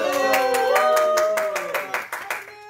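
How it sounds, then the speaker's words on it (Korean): A K-pop group on a Halloween night livestream claps together in a quick, rhythmic run of sharp hand claps. Voices ring over the claps, which taper off toward the end. "박수! 박수!"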